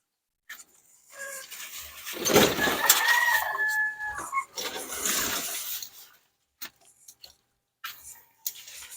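Chickens cluck and squawk close by in bursts, with a rooster-like call rising midway, then scattered quieter clucks and pauses.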